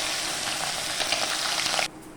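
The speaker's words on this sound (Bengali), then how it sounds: "তেল গরম হয়ে গেছে, দিয়ে দেবো মাছ।" Puti fish sizzle loudly in hot oil, a dense, steady crackling hiss that cuts off abruptly near the end.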